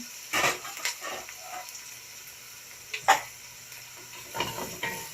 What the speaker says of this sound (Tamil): வெங்காயத்தை நல்லா செவ்வலை வதக்கணும்